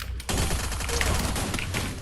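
Firecrackers go off in a rapid, dense string of sharp cracks and pops after a brief quieter moment, loud and continuous to the end.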